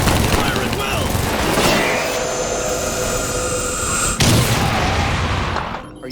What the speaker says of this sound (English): All right, men, shoot the intruders. I don't care who they are. Up there! Fire!